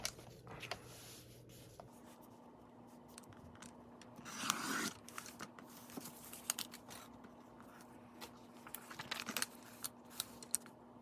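Scissors trimming paper for a junk journal craft page, quiet close snips and rustles in irregular bursts with a louder cluster midway, over a low steady hum and no talking.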